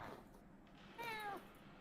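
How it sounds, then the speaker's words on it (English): A cat meows once, fairly faint and somewhat distant, a short rising-falling cry against a quiet indoor background. "I heard a cat."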